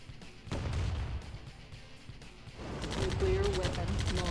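A nuclear strike lands on an army in Command & Conquer Tiberian Dawn, a rumbling blast followed by a crackling wash of explosions and scattered gunfire, moderately loud game audio.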